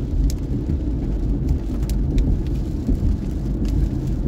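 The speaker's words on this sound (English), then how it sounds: "We're finally getting some good beneficial rain." Steady rain falling in a logging area of Oregon or Washington, a continuous rushing patter with a low rumbling background and scattered louder drop ticks, no talk.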